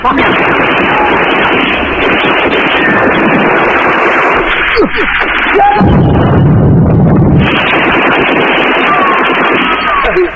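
A war-film firefight with dense, continuous gunfire and explosions, a loud chaotic barrage with a deeper rumbling burst partway through, while a narrator talks over it.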